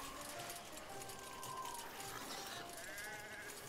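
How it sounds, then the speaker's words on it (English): Sheep bleating in Rayman Raving Rabbids 2, a few short bleats mixed into busy game music and effects, moderately loud against a dense backdrop. "Are we dodging sheep or collecting them?"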